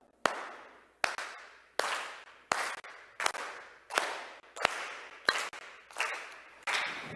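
Hands clapping steadily to the beat, ten sharp claps at an even pace of about one every three-quarters of a second, each ringing briefly in a room, with no talking.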